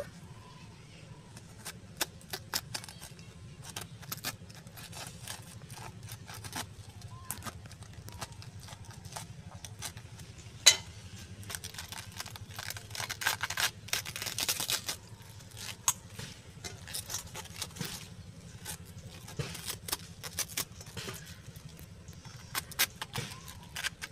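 Knife cutting cabbage into pieces on a board, a series of sharp, quick crisp chops close by over a low background hum.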